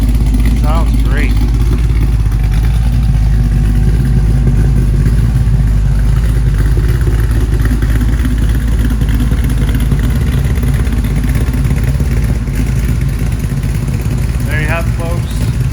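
A 1969 Chevelle SS 396 fitted with a 502 crate motor and 400 turbo automatic runs steadily, a loud, deep, continuous engine rumble filling the whole stretch, with brief faint chirps near the start and end.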